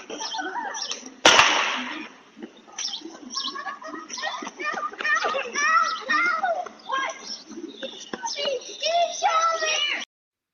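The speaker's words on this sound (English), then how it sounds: "You'll see kids playing, hear a gunshot" Children play outdoors on a residential street on a Saturday afternoon, their shouts and chatter steady and fairly close, with a sharp loud burst near the start and birds chirping faintly behind.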